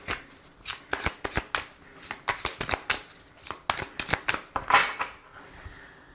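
Tarot cards are shuffled by hand in quick, close bursts of crisp riffling and slapping, repeated rhythmically for several seconds with no talk.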